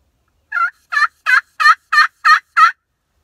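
Wild turkeys gobbling in turkey season, a series of seven rapid, evenly spaced gobbles from a single bird at moderate distance, loud and clear against otherwise silent surroundings with no talking.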